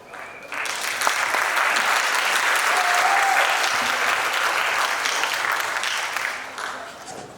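A conference crowd at Osmocon 2022 gives speaker John Patten a sustained round of applause, a dense wash of clapping that swells after a brief start, holds for several seconds, then tapers, with faint voices underneath.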